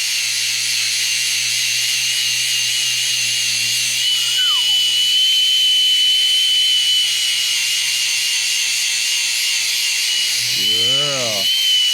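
An angle grinder with a 40 grit flap disc grinds metal, a loud steady high-pitched whine running throughout with a brief rise in pitch near the end.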